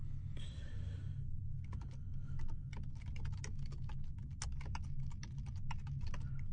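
Fingers tapping a computer keyboard while a site collection name is entered in SharePoint setup, producing quick irregular clicks over a steady low hum, close and moderately quiet with no voice.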